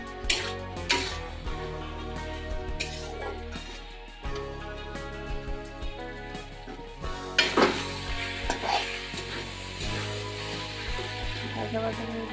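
Chickpeas and potato cubes frying in a spice mix in a pan make a steady low sizzle, with the scrape and clink of a stirring spoon and pan knocks, under someone talking.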